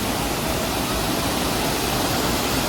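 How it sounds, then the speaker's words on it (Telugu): A steady, loud rush of falling water at Soochipara Falls in Wayanad fills the air, a constant broadband roar without any break. "ఎంత అద్భుతంగా ఉందంటే అంత అద్భుతంగా ఉంది వాటర్ ఫాల్"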